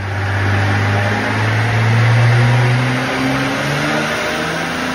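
A truck engine revving on a chassis dyno, a loud steady mechanical drone with a strong low hum that rises slightly mid-clip and then eases, heard alone without talk.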